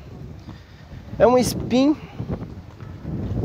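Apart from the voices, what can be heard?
strong wind noise on the microphone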